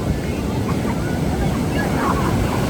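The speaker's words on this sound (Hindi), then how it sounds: "लहरों की आवाज़ें और वो खूबसूरत सा समंदर" Ocean surf rolls onto a UK beach at sunset, a steady loud wash of breaking waves mixed with wind buffeting the microphone, continuous with no pauses.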